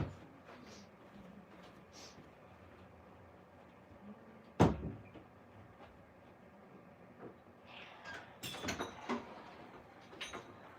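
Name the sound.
door being shut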